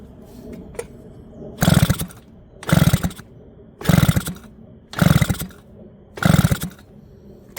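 A 1973 Gemini Boss 80 two-stroke motorcycle engine on two-stroke mix fires in five loud, evenly spaced bursts about a second apart. Each burst is a brief buzzy roar with near quiet between.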